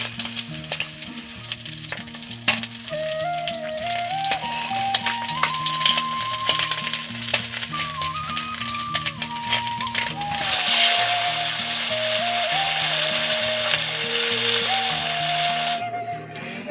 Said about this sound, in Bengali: মাছগুলো আমার বেশ ভালো করে ভাজা হয়ে গেছে, মাছগুলো এবার আমি একে একে তুলে নিচ্ছি।